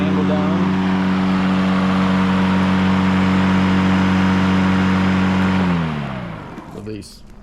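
Battery-powered EGO push lawn mower (non-self-propelled) whirring steadily and loudly with a strong motor hum for several seconds, then winding down as it is released.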